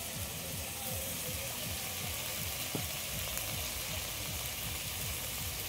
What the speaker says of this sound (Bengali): এর তেলের মধ্যে দিয়ে দিচ্ছি বেটে রাখা মশলা।